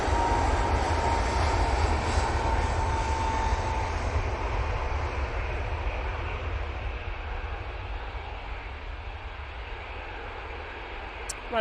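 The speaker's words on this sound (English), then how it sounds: "Ryanair from Rome just landing" Ryanair plane from Rome landing at Manchester Airport, a loud continuous jet engine roar that slowly fades over several seconds, heard alone with no talking.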